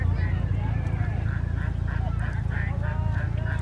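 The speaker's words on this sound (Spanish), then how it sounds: "¿Escuchan a los patos?" Ducks and geese at a pond honk and quack repeatedly in a rhythmic series at mid distance, over a steady low rumble of wind or traffic, with people talking nearby.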